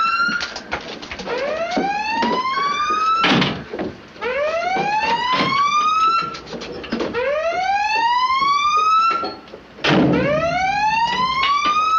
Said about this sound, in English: Sound collision alarm.